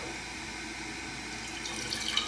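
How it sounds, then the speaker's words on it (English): A toilet tank keeps running after refilling, a steady close hiss of flowing water that grows slightly brighter and more splashy toward the end. "here is that running water"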